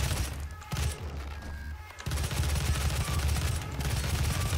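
Rapid gunfire from the video game Doom rattles in dense, continuous bursts, with a brief pause before the shooting resumes even louder.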